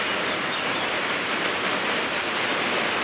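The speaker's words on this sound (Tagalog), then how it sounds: "Grabe jud ka ulan." Heavy rain pours down in a dense, unbroken roar of steady wash that stays loud and even throughout.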